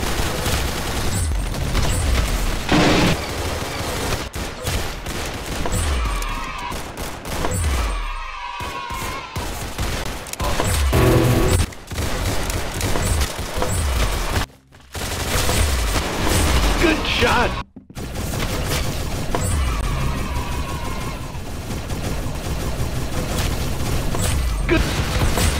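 Rapid bursts of gunfire from the Roblox shooter game Arsenal, dense and loud, with repeated shots and impacts running almost continuously and a few brief silent gaps.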